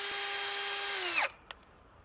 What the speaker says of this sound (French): Une perceuse, peu importe. C'est mieux que de mélanger avec un bout de bois